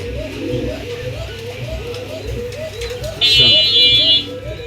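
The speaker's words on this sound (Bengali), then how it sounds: "দর্শক এখানে দেখতে পাচ্ছেন একজোড়া শর্ট পিস কবুতর, খুব সুন্দর কালারের ভিতরে একজোড়া শর্ট পিস কবুতর।" A pair of short-faced pigeons at a pigeon farm cooing in repeated low rolling phrases, close and steady, with a shrill buzzer-like tone cutting in for about a second near the end.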